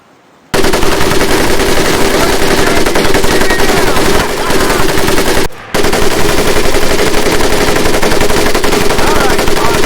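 Sustained loud bursts of machine gun fire in the World War II shooter Medal of Honor: Pacific Assault, continuous and close, broken once by a brief pause before the firing resumes.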